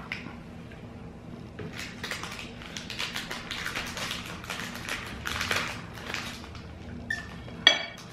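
Crinkly plastic tray from a pack of cranberry and clementine Jaffa cakes being handled, giving a run of light crackles and clicks close by, with a sharper tap near the end.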